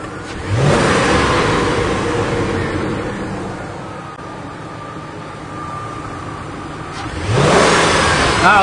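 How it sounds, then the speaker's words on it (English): A car engine with persistent P0171 and P0174 lean codes is revved in two sharp snap-throttle bursts, rising loudly and settling to a steady idle between them, with faint backfire pops amid the close mechanical roar. "Engine's starting to backfire a little bit as it's adjusting here."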